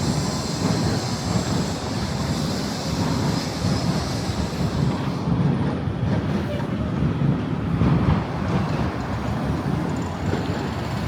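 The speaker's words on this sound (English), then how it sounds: "Oh, and there goes a eastbound train." An eastbound train passes under the Kipling Avenue Bridge in Toronto, a loud, continuous rumbling roar that stays steady for the whole stretch, with traffic noise blending in.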